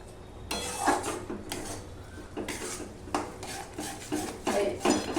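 A metal utensil scrapes and clatters against a pan as black cumin paste is stirred, repeated close scraping strokes at an uneven rhythm with no talking.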